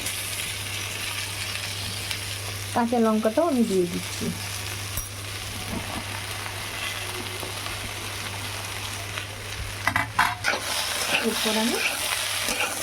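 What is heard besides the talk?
brinjal and vegetables frying and being stirred in oil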